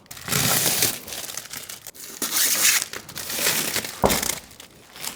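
Heavy packing tape wrapping is stripped off a sofa, making loud, continuous crinkling and ripping with sharp tearing bursts and brief pauses, close by, with no talking.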